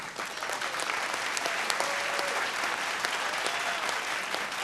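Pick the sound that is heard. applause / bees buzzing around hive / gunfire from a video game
applause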